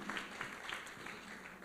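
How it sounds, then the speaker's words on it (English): Faint, brief applause from a conference audience for Mr. Vavi at a national occupational health and safety conference, a soft distant patter of clapping. "Again, our hand of applause to Mr. Vavi"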